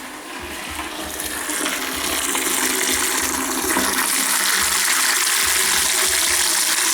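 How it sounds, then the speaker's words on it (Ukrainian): Water rushes and gushes steadily from an open heating-system drain valve, a loud continuous splashing flow that builds slightly and holds for several seconds. "пішла вода."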